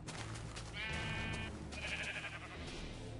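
Sheep in Minecraft bleat twice in quick succession, their thin, buzzy cries faint and set over a low background hum.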